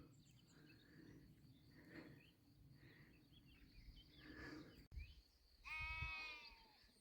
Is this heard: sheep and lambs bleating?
yes